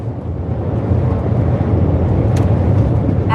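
Strong wind buffeting a truck on a run through the south east, a loud, steady rushing roar that swells slightly and holds without pause.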